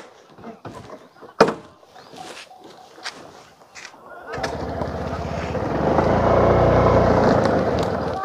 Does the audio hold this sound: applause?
no